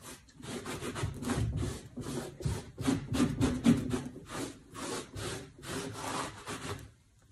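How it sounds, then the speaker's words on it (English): A lint-free rag buffs nearly dry wax on a wooden farmhouse door, rhythmic back-and-forth rubbing strokes close and steady, about a dozen passes with brief pauses between. "we're going to buff with a lint-free rag"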